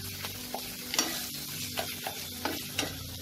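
Thick prawn malai curry spice paste sizzles steadily in hot oil, with a few sharp scraping stirs at intervals, close and fairly quiet.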